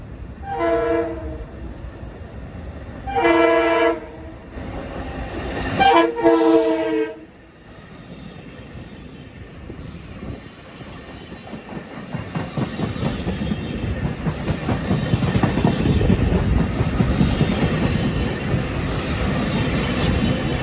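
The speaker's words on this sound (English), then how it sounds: "Approaching at 3:57 is train 2057. Right from Ronkonkoma to New York with more M3s." An M3 electric commuter train, number 2057 from Ronkonkoma to New York, sounds three long horn blasts, then rolls past with a rising, sustained roar and rhythmic clatter of wheels over rail joints, growing louder and closer.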